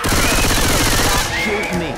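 Rapid gunfire in Left 4 Dead 2, loud overlapping shots and bursts filling the stretch before thinning out, with a voice talking over the end.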